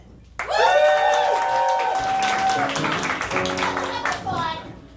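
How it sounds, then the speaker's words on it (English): Audience at a villain-themed marathon show applauding and cheering for Wicked fans, loud clapping mixed with excited whoops and shouted voices, dense and sustained across the whole stretch. "So round of applause if you're a fan of Wicked."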